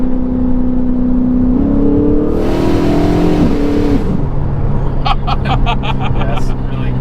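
A tuned Ferrari 488 engine runs close by, its tone stepping up through revs, then dropping with a sharp, loud blow-off valve burst and fluttering chatter as the throttle closes.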